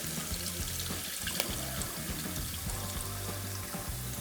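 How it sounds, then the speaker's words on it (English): Hot oil poured through a sieve over chili flakes, a steady close pouring and trickling of liquid with a continuous wet splashing texture. "you can then pour the hot oil through a sieve and over the chili flakes."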